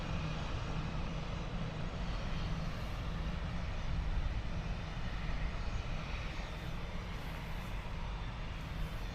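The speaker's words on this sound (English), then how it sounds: "Air Canada Rouge going to Orlando. A321 Airbus." Air Canada Rouge Airbus A321 airliner at Toronto airport, a loud, steady jet engine roar that holds for the whole stretch without a break.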